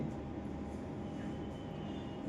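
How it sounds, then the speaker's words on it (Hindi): An air conditioner runs steadily indoors, a constant low whooshing hum with faint broadband hiss, unbroken and unchanging throughout, with no voices. "यहां पर एसी के चलने की आवाज"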